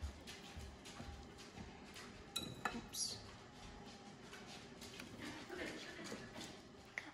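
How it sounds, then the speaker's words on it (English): A spoon stirring a spoonful into a homemade chocolate mixture in a bowl, soft irregular clinks and scrapes of metal against the dish, faint and close with quiet background. "we're gonna stir it in"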